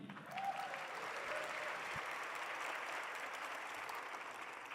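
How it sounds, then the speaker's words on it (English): Audience applause welcoming a speaker at a White House heritage celebration, a soft, distant, continuous wash of clapping from a large room. "Please warmly welcome Deputy Administrator of the U.S. Small Business Administration, Dilawar Saeed."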